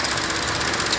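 A 2013 Chevy Cruze engine running with a vacuum leak, a brief, steady, even mechanical drone with a rapid pulsing hiss, heard close up and with no voices.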